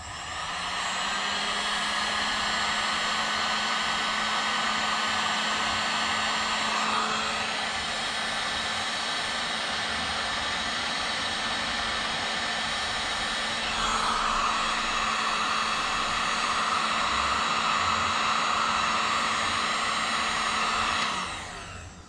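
A heat gun blows hot air during a WR250F motard conversion, a continuous loud fan whine with a steady hum, holding for about twenty seconds with slight shifts in pitch and a brief change near the middle.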